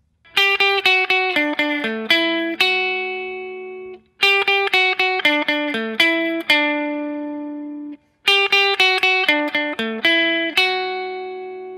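A bright, plucked electric guitar riff of quick picked notes, played three times with short pauses between, each phrase ending on ringing sustained notes.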